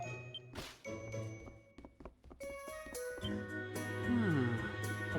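Bells chime and ring in Ys IX: Monstrum Nox, bright tinkling strikes over game music, with a sweeping rising-and-falling tone near the end; close and moderately loud.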